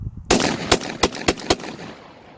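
A Black Aces Tactical Shockwave semi-auto shotgun fires Winchester AA shells in rapid succession, five sharp, loud blasts spaced about a quarter second apart, each with a short ringing tail.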